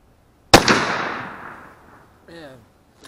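A single loud gunshot from a 1903 Marlin gun: a sharp close crack followed by a long fading echo, then a short burst of speech.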